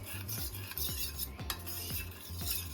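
A spoon stirs custard powder into raw milk in a bowl, making a steady run of soft scraping strokes, close up, with a faint background hiss and no voices.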